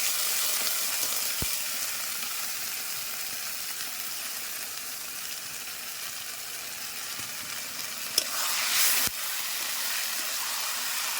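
Water poured onto a spice paste sizzling for mutton curry over a clay stove, a steady frying hiss throughout with a brief burst of louder sizzle near the end.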